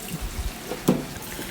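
Rice grains washed in water, a short burst of splashing and trickling liquid with one louder slosh near the middle.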